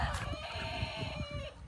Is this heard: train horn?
no